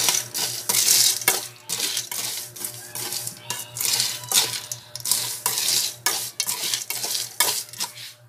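Food is stirred in a pan after salt goes in, a utensil scraping and clinking in a steady repeated rhythm, close and fairly loud, with a faint sizzle underneath and no voices.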